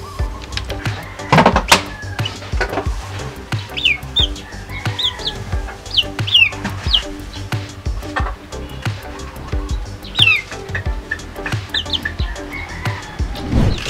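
Chickens cluck and chirp repeatedly in a busy yard, with scattered bird calls and other farmyard noises around them.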